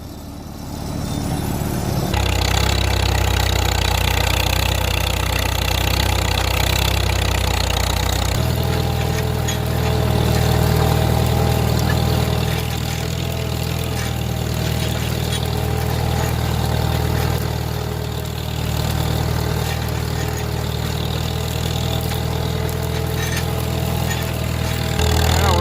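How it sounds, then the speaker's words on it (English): Farmall M tractor engine running steadily while discing through wet, muddy ground, a loud continuous low mechanical drone that steps up in intensity after a few seconds and holds throughout with no talk. "You guys are going on a tractor with me."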